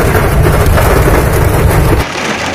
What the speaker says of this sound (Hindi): आप देख सकते हैं कि किस तरह से वर्षा लगातार हो रही है